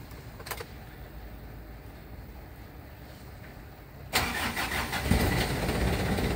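Car engine cranking and catching after a weak battery was replaced, a quiet background hum giving way at once to a louder, steady idling rumble that continues close by.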